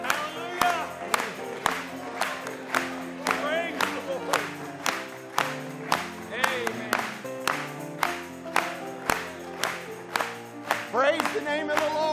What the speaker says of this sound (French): Acclamons pour lui ce matin.